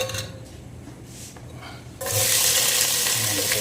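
Onions are dropped into hot oil for a fish curry, and a sudden loud, bright sizzle rises and holds after a quieter stretch of pan clinks and stirring.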